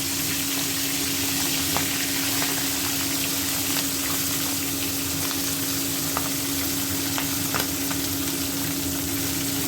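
A fish head fries in hot oil on a stove, giving a steady, dense sizzle with small pops and crackles throughout, close and continuous with a faint hum underneath.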